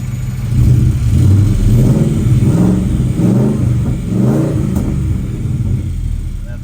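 A 1971 Ford F100 XLT Ranger Heavy Duty Special pickup's engine runs steadily with a low, rumbling idle that rises in a few rhythmic surges, close by and fairly loud throughout, with no voices.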